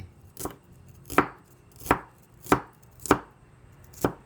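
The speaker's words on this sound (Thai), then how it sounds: "ขั้นตอนต่อไปก็ ซอยหัวหอมลงไป" Shallots being sliced with a knife on a board, six crisp evenly spaced chops close by with no talk.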